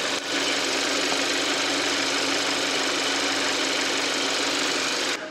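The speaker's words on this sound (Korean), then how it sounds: "엔진 소리 한번 들어볼게요" A Hyundai Grandeur engine idles with a steady, even mechanical hum and faint rapid ticking, constant from start to finish at close range with the engine bay open.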